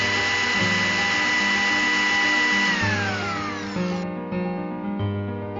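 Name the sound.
mixer grinder blending refrigerated coconut ice balls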